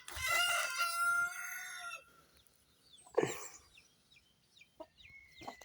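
A rooster crows loudly and close in a backyard poultry flock, a long harmonic call lasting about two seconds, followed by quieter clucks and short calls from the hens.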